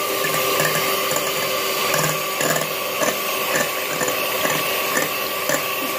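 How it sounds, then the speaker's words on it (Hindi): An electric beater whips eggs into foam for a chocolate sponge cake, giving a loud, steady mechanical whir with a faint rattling texture that runs unbroken throughout, with no voices. "अब बीटर की हेल्प से हम इसको बीट करेंगे और फोम शेप में ले आएंगे"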